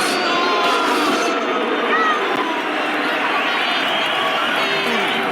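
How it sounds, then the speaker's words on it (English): A hostile crowd at a boxing match in a Rocky IV fight scene fills the space with thick, continuous shouting and babble that swells and churns without a break. "Listen to this crowd."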